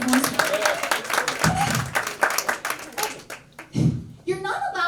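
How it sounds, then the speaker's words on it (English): An audience at a live comedy-style show claps in short bursts of scattered hand claps, fairly close and mixed with crowd murmur, fading briefly before a second smaller burst near the end. "Clap if you heard about positive reinforcement."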